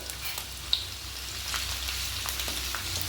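Finely chopped garlic and ginger frying in hot oil in a kadai for soya chilli, giving a continuous close hiss with a faint stir or two and one brief click.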